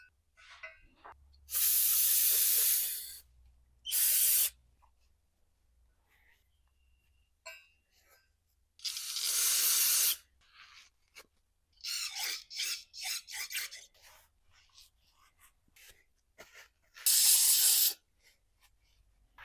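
Short bursts of aerosol spray hiss into the oil galleries of a BMW X5 diesel engine, several sharp loud blasts separated by quiet gaps, with faint handling noises in between.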